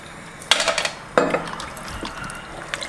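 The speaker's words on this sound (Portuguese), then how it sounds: "Cobriu com água aqui" Water pours and splashes into a pressure-cooker pot of pasta with sausage. Two sharp clattering bursts of liquid and pot noise are followed by quieter sloshing, with no talk.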